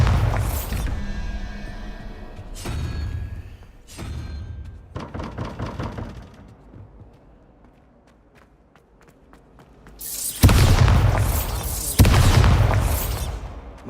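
Bombarda spell blasts in Hogwarts Legacy, heavy booming impacts and crashing bursts recurring across the scene, with quieter stretches between loud broadband hits near the end.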